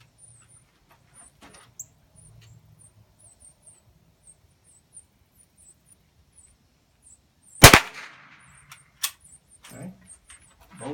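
A single sharp crack from a small Cricket .22 youth rifle rings out outdoors, preceded by quiet handling and faint bird chirps, followed by a few light clicks and rustles.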